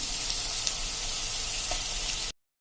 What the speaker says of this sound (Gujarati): આપણા કાંદા પણ એવા સરસ જોઈએ એવા સંતળાઈ ગયા છે